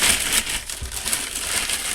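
Loud, continuous plastic crinkling and rustling as a bag is handled and pulled at, with no talking.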